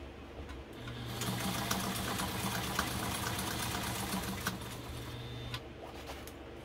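A Brother 190 Flairmatic sewing machine runs at a steady pace sewing a longer straight stitch, a close, even mechanical whir with rapid needle ticking for about five seconds before slowing to a stop.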